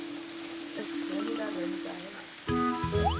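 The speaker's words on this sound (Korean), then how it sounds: "토마토를 썰어 넣고 다른 재료도 함께 볶아주세요." Sliced tomato and enoki mushrooms stir-fried in a pan, heard as a soft continuous sizzle under a sustained tonal background, with a brighter musical sound entering near the end.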